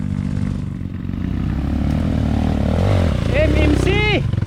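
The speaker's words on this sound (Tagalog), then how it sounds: "Lakas talaga yung makina" A KTM dirt bike engine revs and growls on a forest trail, its low drone swelling steadily, while several people shout and talk over it near the end.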